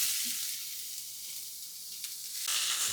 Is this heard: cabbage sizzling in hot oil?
yes